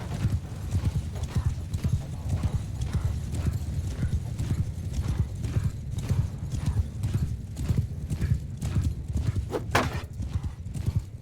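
Horse hooves clatter in steady rapid clip-clop throughout a medieval battle video game, with a sharp neigh near the end over a dense background of combat noise.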